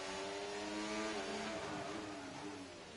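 Racing cars, an Alpine and a McLaren, enter the pits in an esports racing game, with a smooth whining engine drone that rises and then fades slightly as they slow, heard alone without commentary.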